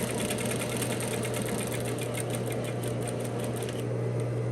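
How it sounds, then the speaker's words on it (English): A sewing machine stitching close along a welt pocket edge, running steadily with a fast regular needle patter over a low motor hum, stopping just before the end; nobody speaks. "And I'm just stitching along this edge as close as possible."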